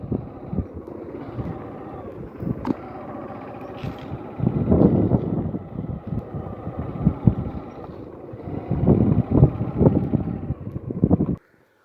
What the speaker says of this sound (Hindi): पूरे कांटों के बीच में ये इस समय भी चल रही है गाड़ी हमारी।